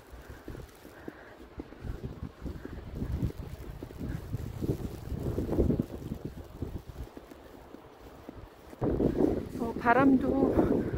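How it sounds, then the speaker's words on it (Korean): Strong wind gusts at around 60 to 70 km/h blow outdoors on a snowy winter day in Canada, a loud rumbling roar that buffets the microphone and rises and falls in surges. "바람도 엄청나게 불어서 시속 60km에서 70km 분다고 했는데"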